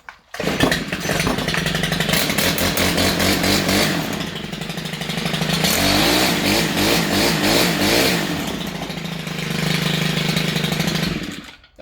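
A Stihl FS91R string trimmer engine runs close and loud, revving up and down in repeated surges with a rough buzzing note, after repairs to a broken intake and carburetor.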